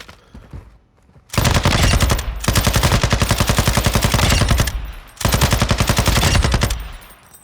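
Seiken assault rifle fired in the DMZ video game with a hipfire, laser-equipped build: two long, loud full-auto bursts of rapid, evenly spaced shots separated by a brief pause.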